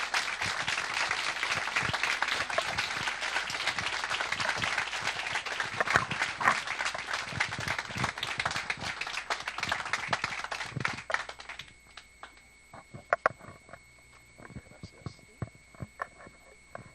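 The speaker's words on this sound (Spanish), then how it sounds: "con un muy fuerte aplauso me gustaría recibirlo a Antonio Portugal Albizuri." Sustained audience applause greets a guest lecturer at a Spanish-language talk, dense loud clapping for about eleven seconds before thinning to scattered claps over a quieter room.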